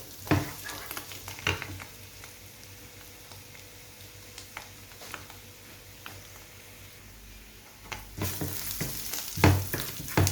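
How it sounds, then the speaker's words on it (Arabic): Onion, garlic and mushrooms sizzle steadily in a pan while a utensil stirs them, with repeated scraping strokes and bursts of louder crackle over a continuous frying hiss, close up. "نمرو مزيان البصله والفيسو ديالي والشامبيون، تنبغي تجي فيهم هاد التحمير هادي يتحمر"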